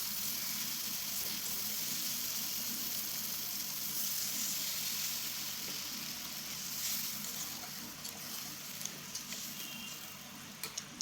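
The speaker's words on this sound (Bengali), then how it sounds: "তো দেখুন আমি জল দিয়ে দিলাম।" Water hits a hot pan of sizzling spice paste, giving a steady hiss and gush that settles slightly toward the end with a few small clicks.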